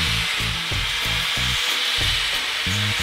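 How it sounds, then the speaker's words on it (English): A grinder is shaving down the wooden handle of a wheel-cleaning brush in short, repeated rasping passes about twice a second, close and loud against a steady motor whine, with no talking. "I'm just using a grinder because it's probably going to be quicker."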